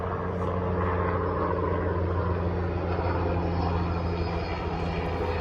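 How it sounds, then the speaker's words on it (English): Helicopter passing low overhead, a loud steady engine drone with a deep, rumbling rotor hum that stays constant from start to end with no speech. "Don't mind the helicopter flying over."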